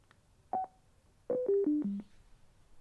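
A Cardo Scala Rider Freecom 4 motorcycle intercom shutting down gives a single electronic beep, a brief pause, then four quick descending tones, clear and close with no talking.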